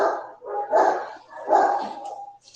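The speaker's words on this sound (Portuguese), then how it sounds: "esses cachorros dos vizinhos aqui estão perturbando." Neighbours' dogs barking nearby in a few loud, drawn-out bursts with short gaps between them, a rough yapping chorus heard on its own.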